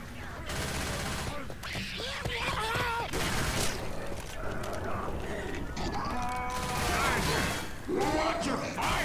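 Gunfire in Left 4 Dead 2, a zombie co-op shooter, heard as rapid, busy bursts of shots and clatter throughout, layered over game sounds and people talking.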